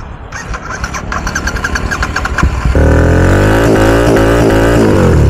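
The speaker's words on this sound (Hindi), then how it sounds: "अबे साला स्टार्ट का ही नहीं हो रहा।" A motorcycle that may have taken in water after washing cranks with a rapid, stuttering starter rhythm for a few seconds, then catches and settles into a loud, steady idle close by.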